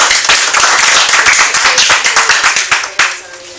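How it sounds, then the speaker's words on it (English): A small group at a public speaking mastermind session claps for group 1. Separate hand claps are clearly audible in a quick, uneven rhythm, loud and close, and they thin out and fade toward the end. "Give group 1 a big round of applause"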